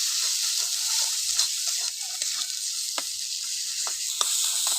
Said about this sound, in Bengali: কাশ্মীরি লঙ্কা গুঁড়ো দুটো কাঁচা লঙ্কা চেরা দিয়ে দেবো এটাকে ভালো করে ভেজে নেবো মশলাটাকে